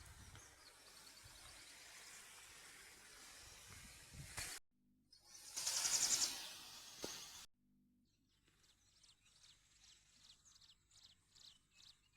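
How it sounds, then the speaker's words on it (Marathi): Faint bird chirps from far off, repeated short calls with airy outdoor background noise and gaps of near silence. "त्या झाडेवर पक्षी आहे तरी तिथला आवाज इथे येतोय"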